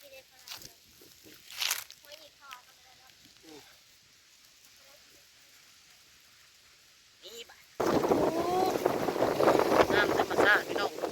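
A cool wind blows outdoors, first as faint gusts among scattered voices, then as loud, sustained buffeting roaring across the microphone near the end.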